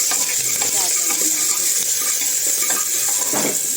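Chopped onion sautéing in a pan with steady sizzling and occasional stirring scrapes and utensil clinks, close and moderately loud, with a voice speaking briefly over it.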